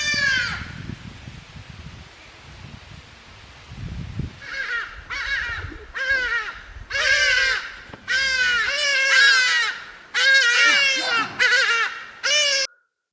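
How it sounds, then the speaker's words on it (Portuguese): Loud, harsh cawing bird calls with a wild, laugh-like cackle, repeated in a rapid series of bursts after a few seconds of low background rumble, close and prominent. "um pássaro específico me chamou muita atenção, assim, por causa do canto dele"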